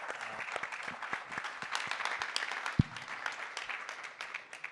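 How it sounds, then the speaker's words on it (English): Applause from a conference panel audience, steady scattered clapping heard at a distance and fairly faint, with one sharper clap standing out partway through. "this deserves a round of applause for just the amount of amazing progress they've made"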